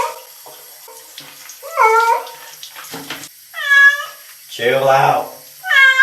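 A cat being bathed under running water meows loudly several times, with splashing and tap water in the background and a person speaking calmly between the cries.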